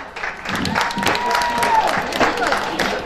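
Audience clapping at a sorghum festival pageant, a steady wash of hand claps from a crowd with an amplified voice speaking over it, moderately loud and sustained.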